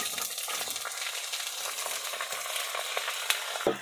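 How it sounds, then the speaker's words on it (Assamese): Garlic and onion fry in hot oil with a dense, continuous crackling sizzle, close and steady, ending with a small metallic clink. "এয়া তেলত নহৰু আৰু পিঁয়াজ দি দিছোঁ।"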